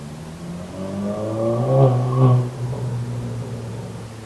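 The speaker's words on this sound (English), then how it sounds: "that is just somebody revving the shit out of their car" Out on a busy nearby road a car engine revs, rising in two surges and falling back, muffled and moderately loud, with no voices over it.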